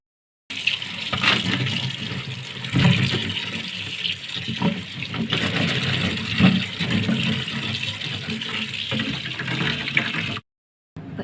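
Ginger and green chillies being washed in water, a steady splashing, gushing wash running close and loud for about ten seconds before cutting off abruptly.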